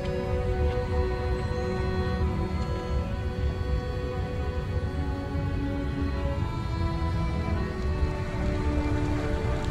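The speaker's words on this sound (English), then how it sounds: "the dark gray skies finally burst into torrential rains, thunder, and lightning" Torrential rain pours down without a break during a thunderstorm, a dense and steady hiss that stays loud from start to finish with no voices.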